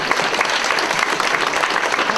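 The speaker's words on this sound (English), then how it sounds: "have a round of applause even though they're not here" Applause from a live music event audience at Jamchester 2016, a dense, steady clatter of many hands clapping throughout, loud and continuous with no talking over it.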